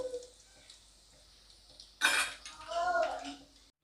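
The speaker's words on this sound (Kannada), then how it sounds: "ಇದನ್ನು ಒಂದು ಪಾತ್ರೆಯಲ್ಲಿ ತಗೊಂಡ್ಬಿಡೋಣ." Fried soya chunks for soya manchurian are tipped from a pan into a vessel, giving a sudden loud clatter and scrape of food and metal after a quiet stretch, then a rustling slide that fades out.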